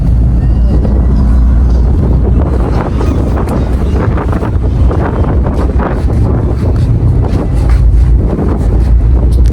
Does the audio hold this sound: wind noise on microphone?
yes